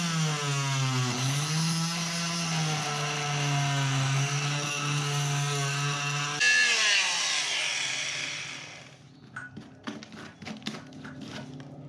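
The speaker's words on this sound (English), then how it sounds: "I'm going to have to cut those screws" A power tool cuts screws on a horse trailer board with a loud, steady whining drone that wavers in pitch, then winds down and gives way to scattered clicks and knocks.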